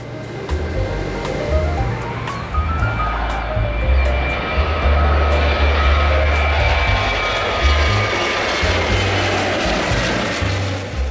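A loud airplane engine roars steadily, its low drone building with rising whine as the aircraft takes off, continuous and close throughout.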